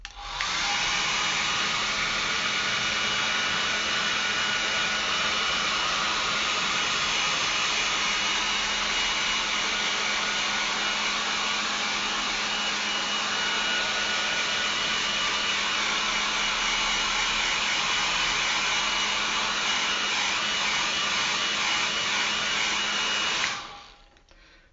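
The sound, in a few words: hair dryer drying watercolour painting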